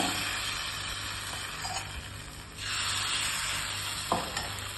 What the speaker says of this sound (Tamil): நம்ம எண்ணெயில் அப்படியே வந்து வடை சுடுற மாதிரி சுடுவோம்